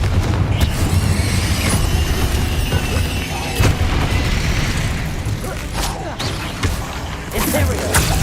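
Confringo spell blasts in the Hogwarts Legacy video game, dense booming explosions and crashing impacts layered over game effects and battle noise, with sharp bursts recurring throughout.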